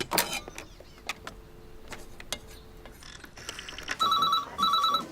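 A telephone rings with two short electronic trilling bursts near the end, after a few faint mechanical clicks and taps in a quiet room.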